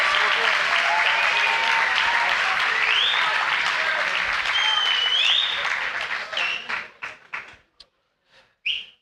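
An audience at a round-table event on student sport and social isolation claps loudly and steadily, with a few whistles over the crowd, then the applause thins into scattered final claps and stops.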